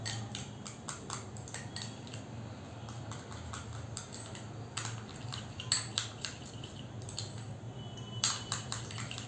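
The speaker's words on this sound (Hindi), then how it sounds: "अब इन सबको अच्छे से मिक्स करूँगी" A spoon stirs a homemade face pack of lemon and amba haldi turmeric in a small bowl, giving quiet, irregular clinks and scrapes against a faint steady background hum.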